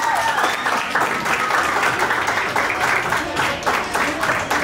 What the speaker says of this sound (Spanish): ¡Aplausos para Pirina!